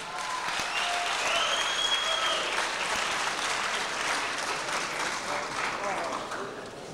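Audience applauding at an international bodybuilding championship in Hamburg, a full, steady clapping from a large crowd that keeps a constant level throughout, with faint whistles and murmurs mixed in.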